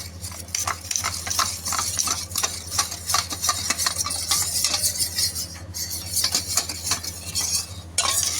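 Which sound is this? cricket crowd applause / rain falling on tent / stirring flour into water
stirring flour into water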